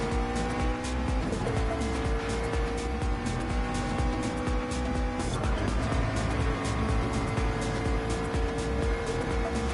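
A McLaren GT3 race car in sim racing at Watkins Glen, with a steady high engine whine held at speed and a couple of sharp shifts in pitch, loud and continuous throughout.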